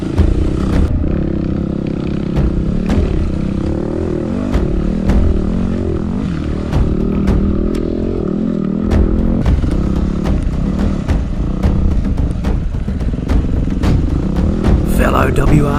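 Adventure motorcycles and a WR250 riding together in a group, a continuous close engine drone with wind buffeting and shifting revs, while someone talks over it.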